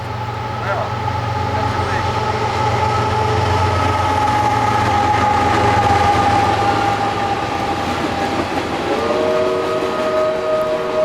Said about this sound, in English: we were caught off guard by a CSX train to the left of us.